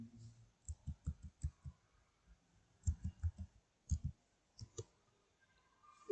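A computer mouse clicks while working in Microsoft Word. The clicks are crisp, close and come in irregular clusters, some in quick runs and some single, with faint voice traces in the background.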